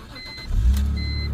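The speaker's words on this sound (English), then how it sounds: "Starts right up, no problems. Idle so smooth." A manual BMW E46 engine cranks briefly and fires into life, rising to a low rumbling idle that settles smooth and steady, close and fairly loud.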